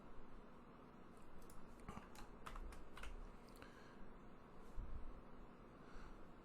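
Quick keystrokes on a computer keyboard, a few scattered clicks and short bursts over a low room hum, fairly faint and close, with no talk.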